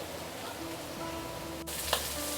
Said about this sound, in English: So we will saute this with or without oil for a couple of minutes, and you'll start seeing some pork fat coming out